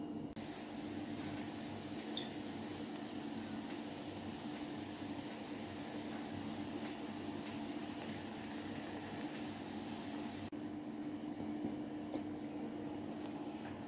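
Gulab jamun, three at a time, deep-frying in oil in a small pot, a steady dense bubbling hiss that runs unbroken throughout.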